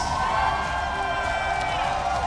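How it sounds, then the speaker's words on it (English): A large esports arena crowd at the 2016 League of Legends Worlds group stage gives steady applause and cheering after a match win, a continuous dense roar with no talk. "the crowd respectfully giving them some applause after that win"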